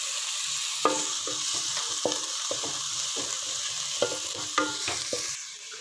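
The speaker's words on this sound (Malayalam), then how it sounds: "അപ്പോൾ നമുക്ക് അതിലേക്ക് ക്യാരറ്റ് ഇട്ട് കൊടുക്കാം. അപ്പോൾ നമുക്ക് ഇളക്കി കൊടുക്കാം." Carrots and onions fry in a pan with a steady sizzle while a utensil stirs them, its scrapes and knocks landing at an irregular pace close by, with no voices.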